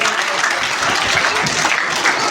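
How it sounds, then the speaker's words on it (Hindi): Sustained clapping from the audience at a school annual prize-giving ceremony, a thick, even roar of many hands that continues unbroken throughout. "तालियां बजाते रहे भैया बहनों के लिए"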